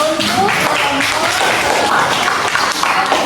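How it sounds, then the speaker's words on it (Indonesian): A high school class claps after a group presentation, a steady burst of many hands close by with some scattered voices mixed underneath. "Oke, tepuk tangan ya"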